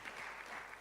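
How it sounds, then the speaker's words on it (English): Applause from a lecture audience honouring a tropical medicine award recipient, a steady dense wash of many hands clapping at a low, even level without pause. "Clap for her."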